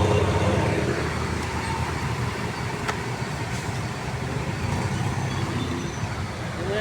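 Steady road traffic rumbles along a flooded street in Olivares, a continuous, dense wash of engine and tire noise with no breaks, heard from close by.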